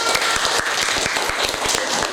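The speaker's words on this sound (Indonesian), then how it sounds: "Bagus, tepuk tangan." Classroom applause from pupils: a brief burst of quick, distinct hand claps, fairly loud and close, with a faint voice underneath.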